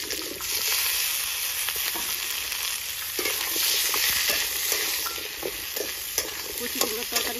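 Nigella seeds and a dried red chili fry in hot oil for a young pumpkin curry, making a continuous crackling sizzle up close, with scattered stirring clicks and pops from the pan and no talking.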